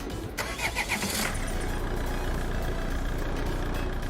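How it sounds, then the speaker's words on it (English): A truck engine in Euro Truck Simulator 2 starts with a short rough crank, then settles into a steady, loud, close mid-pitched idle that runs to the end with no speech. "So apparently the engine sound of this thing is kind of a meme in the community."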